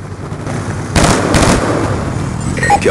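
A stealth chopper attack in the Black Ops 2 video game, with bursts of rapid gunfire and blasts breaking out loudly over steady background noise.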